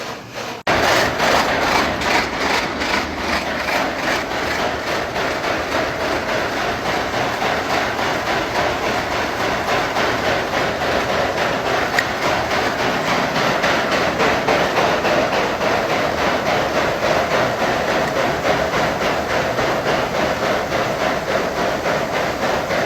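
A grain drag auger runs continuously at close range, a loud steady mechanical rattle and clatter with a rapid rhythmic clacking throughout, no voices over it.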